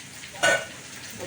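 Dried red chillies dropped into hot oil with curry leaves, a low steady sizzle that flares into one short, sharp hiss before settling back.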